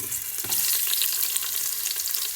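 Onions hit hot ghee with whole spices for Kerala-style ghee rice, a steady bright sizzle close up with faint stirring and occasional pops.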